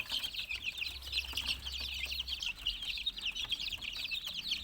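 Young chickens, 28 days old, cluck and peep continuously in a dense, high chatter at moderate distance, with a faint low rumble underneath and no talking.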